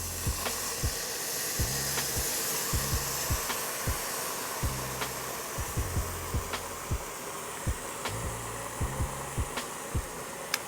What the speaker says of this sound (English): we're gonna deglaze the skillet with a Mexican beer